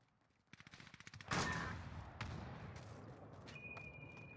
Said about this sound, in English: What is that noise? It's an LMG.